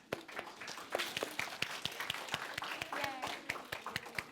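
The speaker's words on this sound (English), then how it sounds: "give yourselves a round of applause for doing that." Audience at a library author event for a children's book applauds, with sustained scattered clapping from a modest crowd throughout, some claps sharper and closer than others.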